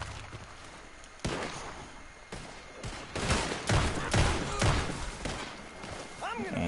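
Gunfire in a Red Dead Online video game battle, a run of loud shots and bursts that build from about one second onward, with someone talking over the firing.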